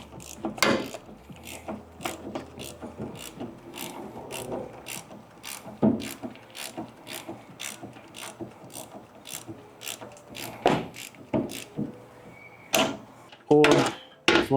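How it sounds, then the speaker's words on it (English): A ratchet wrench clicks steadily while turning a strut mount nut on a Honda CR-Z, rapid rhythmic pawl ticks up close, with occasional clunks of the tool and brief talk. "counter hold the ratchet while rotating"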